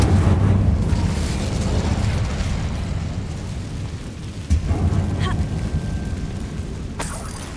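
A fiery Incendio spell bursts out in Hogwarts Legacy, a loud, sustained low rumbling roar of flame in a dark web-filled area, with a sharp pop midway and a brief crackle near the end.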